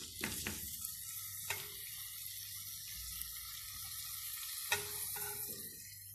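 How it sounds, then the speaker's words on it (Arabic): Chicken with its blood and onion fries in a pot, a constant bright hiss with a few stirring clanks near the start and again later. "نقلو هذاك الدجاج مع البصل"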